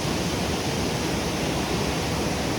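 Chaulabhaja waterfall in Mayurbhanj gives off a steady, dense roar of falling water, loud and unbroken, with no voices over it.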